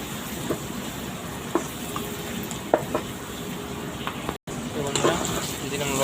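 Spices sizzling in a hot pan for a prawn and fish curry, a steady frying hiss with occasional pops and stirring clicks, while a person talks.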